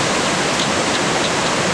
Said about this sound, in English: There is one little waterfall right there.